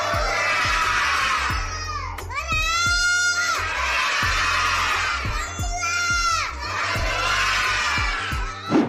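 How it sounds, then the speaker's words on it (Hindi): Schoolchildren shout lessons by rote in a loud, continuous chorus of high young voices, rising and falling in repeated chanted phrases with crowd-like cheering energy throughout. "बच्चों को चिल्ला चिल्ला कर रटवाने की कला प्राचीन काल से चली आ रही है।"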